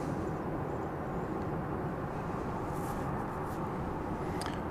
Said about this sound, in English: that was an Embraer 145 coming in from Las Vegas